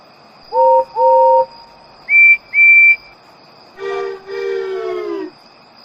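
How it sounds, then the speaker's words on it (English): Steam engine whistle at a railway station, sounded as a few short toots in rising pitches followed by a longer, lower, richer whistle, loud and clear against near silence. "Respectable engines don't whistle loudly at stations."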